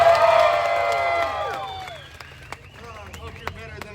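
A story-time audience claps, cheers and whoops on cue, loud and close at first, then the cheering tapers off as whistles and scattered shouts continue.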